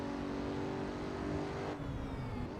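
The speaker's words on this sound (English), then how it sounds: "when we let off the gas, it just whines." A Pagani Huayra on a track day gives a steady high whine as the driver lifts off the gas, with engine harmonics easing down near the end, fairly faint and without speech.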